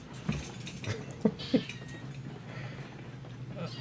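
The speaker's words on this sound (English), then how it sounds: "I pressed the cat activate button." A cat meows in the train video game Railroads Online: three short, faint calls spread over a few seconds above a steady low background hum, with a light clink of dishes in the mix.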